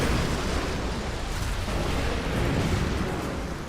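A satellite strike in Red Alert 3 wrecks a dockyard as a loud, dense, continuous roar of blasts and rumbling debris that holds for several seconds without letting up.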